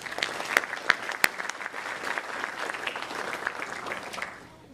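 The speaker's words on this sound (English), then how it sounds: "That support is certainly worthy of an additional round of applause." At a high school academic recognition ceremony, an auditorium audience gives a sustained round of dense applause. The applause is steady and fills the room, with a few sharper claps standing out before it tapers off.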